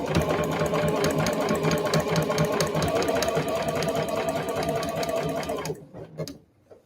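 A sewing machine runs steadily at close range, stitching the handle of a convenience-store eco bag with a rapid, even needle rhythm for several seconds before stopping abruptly; faint clicks follow.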